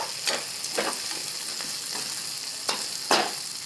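Sautéing in a pan until soft for a spicy Maharashtrian vadi curry, a steady close sizzle punctuated by regular scraping stirs of the spatula.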